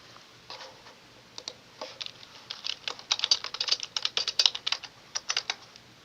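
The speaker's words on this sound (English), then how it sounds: "I'm typing now." Rapid typing on a computer keyboard, irregular bursts of clicks that grow busier and louder toward the middle, close and clear with no talking.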